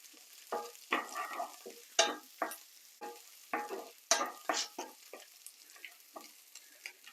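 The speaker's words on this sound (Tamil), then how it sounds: "இப்போ கருவேப்பிலை உள்ளி எல்லாம் வந்து சாதுவாக பொறிஞ்சிட்டுது" Curry leaves and garlic frying in a pan for a Sri Lankan-style bean stir-fry, with irregular bursts of sizzling and scraping stir strokes, close and moderately loud, no talking.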